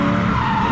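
A Ford Falcon V8 car skids with a loud, sharp burst of tyre squeal and engine noise, close and brief.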